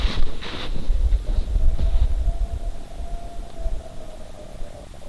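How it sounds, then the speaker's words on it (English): A faint, distant siren holds a thin steady wail outdoors on a quiet January night in the Kettle Moraine, partly buried under gusty wind noise and low rumbles. "Is that a siren?"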